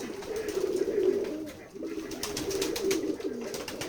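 Pigeons coo steadily in a village loft at Betikhola, Keshabpur, Jessore, a low throaty rolling murmur that runs nearly unbroken through the whole stretch, close and moderately loud, briefly dipping midway.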